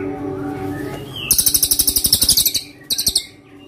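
A murai songbird in semi-pur condition sings close and bright, with a rapid run of repeated chirping notes followed by a shorter burst after a brief pause, over low background noise.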